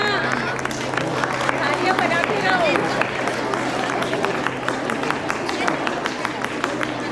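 Audience clapping at an intercollegiate sports fest, a dense patter of many hands mixed with crowd babble, moderately distant and continuous while someone speaks over it.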